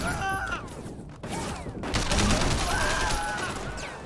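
Bursts of gunfire in the Sleeping Dogs action video game, several quick shots and a sustained volley mixed with game effects and music at moderate level.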